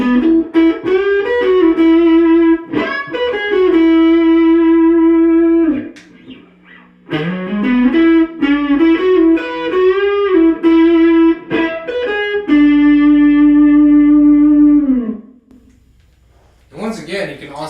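Electric guitar played through the middle and neck pickups together, giving a clean, sustained tone: several strummed chords and held notes ring out loud and close, with short pauses between phrases.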